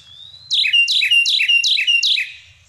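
A recorded Carolina wren song: after a thin rising whistle, five loud, rapid repeated phrases ring out in an even rhythm, clear against silence before fading.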